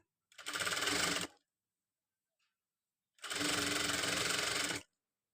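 A sewing machine stitches a katori blouse front panel in two close, loud bursts of rapid, buzzing mechanical stitching separated by a brief pause, with no talking.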